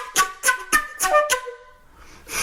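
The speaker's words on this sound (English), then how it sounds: "we can add beatbox syllables, and it can sound like this." A flute plays rhythmic, punchy notes broken up by percussive beatbox syllables, five sharp accented hits in quick succession, then a softer breathy tail and one more attack, close and clear.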